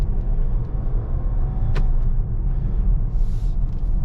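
A Jeep Grand Cherokee with a 5.7 Hemi V8 engine hums low and steady from inside the cabin on a test drive, with a brief click and a faint hiss over the road rumble.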